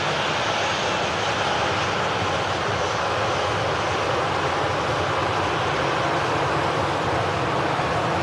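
Jet aircraft engines spool up at an airport, a loud, steady broadband roar that holds constant throughout, with no voices over it.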